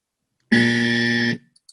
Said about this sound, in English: I just heard the buzzer